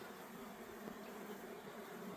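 Honey bees buzz steadily at a hive entrance while collecting pollen, a dense, continuous close-up drone with no voices.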